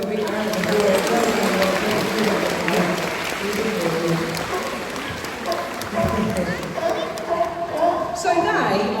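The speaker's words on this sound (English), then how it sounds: "Give them both a big round of applause." Audience applause at a sea lion show at Knowsley Safari Park: steady, dense clapping from a crowd, sustained throughout with some cheering and chatter mixed in.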